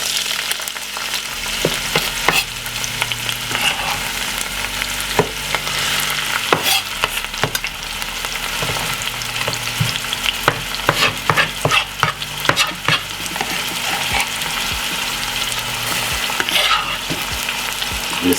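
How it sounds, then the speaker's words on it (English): Steady crackling sizzle of vegetables and Scotch bonnet pepper frying in a pan, with occasional sharp clinks and stirring scrapes throughout, close and continuous with no voices. "I'm gonna pop everything inside of the frying pan."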